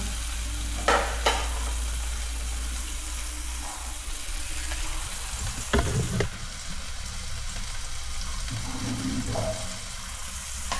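A tomato vegetable curry with masala sizzles steadily in a pan, with occasional stirring clinks and scrapes and a faint watery hiss in the background.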